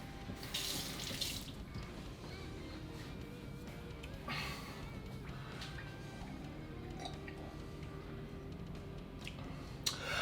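Tap water runs into a sink while someone rinses their mouth, a steady splashing stream marked by a few sharp sloshing bursts and gargled spits along the way.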